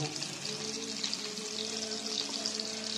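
Eggs frying in a pan give a dense, bright, crackling sizzle that carries steadily and close throughout, with no pauses.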